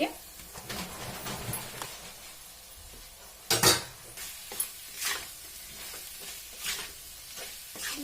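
Potatoes with fenugreek leaves fry on a low flame as a utensil stirs and scrapes the pan, with a steady soft sizzle and irregular metallic clinks and knocks up close.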